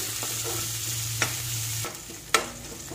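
Onion pieces fry in a pan with a constant sizzle, while two sharp scrapes of a spatula stir them; no voices.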